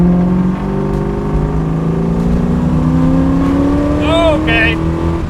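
A 1967 Camaro resto-mod engine pulls hard under acceleration, its loud, rising drone climbing steadily in pitch and staying close throughout, while voices shout briefly near the end.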